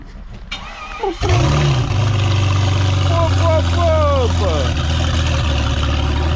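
A Citroën Traction V12 car engine cranks and restarts, catching after about a second and then idling loudly and steadily close by, with a person talking over the running engine.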